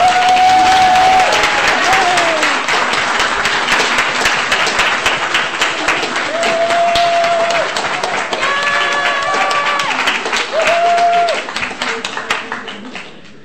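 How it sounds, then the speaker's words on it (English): A church congregation at a Sunday service applauds loudly and steadily for over ten seconds, with some cheering voices mixed in, before the clapping tapers off at the end. "You may applaud wildly now."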